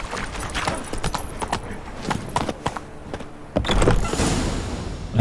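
Roach the horse in Witcher 3 trots along, her hooves making a steady run of sharp clip-clops. Harness jingles and a brief whoosh of movement sit alongside the hoofbeats.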